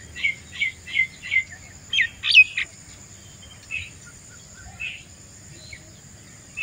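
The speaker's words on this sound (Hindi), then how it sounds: "देखो कितनी किस्म की जो है ना वो चिड़ियाँ चहचका रही हैं" Several kinds of small birds chirp and tweet at dawn along a village canal in the countryside, bursts of quick calls coming close together at first and then spacing out, with faint insects humming underneath.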